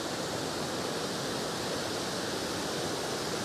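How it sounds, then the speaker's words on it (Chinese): A wide, shallow river in a Miao village in western Hunan, swollen and muddy after days of rain, flows fast with a heavy volume of water, making a constant, dense, close roar with no talk over it. "可以看到这条河的河面还挺宽的，但是水没有多深，水流量很大。"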